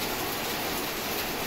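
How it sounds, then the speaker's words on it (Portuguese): Heavy rain pours steadily at Praia de Tamandaré, Pernambuco, with flooded streets, forming a dense, unbroken hiss that stays loud and even throughout, with no voices. "muita chuva aqui na região, meu amigo"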